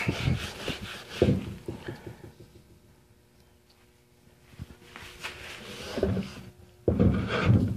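Rag rubbed back and forth over glazed wooden furniture in a shabby chic painting job, giving repeated soft scrubbing strokes that fade to near quiet mid-way, then return louder and denser.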